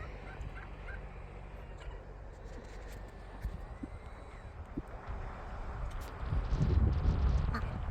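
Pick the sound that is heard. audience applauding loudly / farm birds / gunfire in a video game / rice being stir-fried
farm birds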